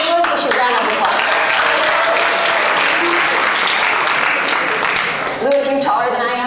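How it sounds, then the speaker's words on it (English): A large audience applauds a volunteer named Lewis as he comes up on stage at an artist's talk, dense sustained clapping filling the room before it thins near the end and a voice starts speaking. "Give Lewis a round of applause."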